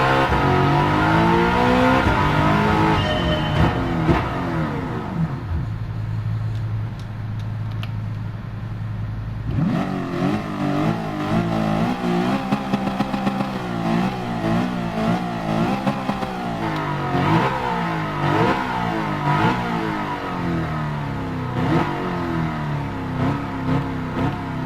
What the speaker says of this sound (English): after we do the volume boosted revving